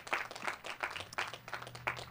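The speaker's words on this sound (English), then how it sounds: "that's worthy of applause" Scattered applause rises in bursts from the audience at Delaware State University's 122nd commencement ceremony, fairly faint and uneven, with a low steady hum underneath.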